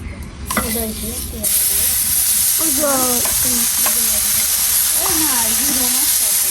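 Potatoes fry in a pan, starting with a softer hiss that jumps to a loud, steady, close sizzle while a person talks over it.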